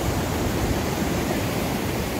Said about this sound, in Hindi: देखो झरने बह रहे हैं यहाँ